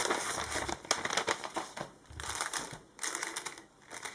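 A prize package envelope is torn open and handled by hand up close, giving bursts of crinkling, rustling paper and crisp tearing with short pauses between them.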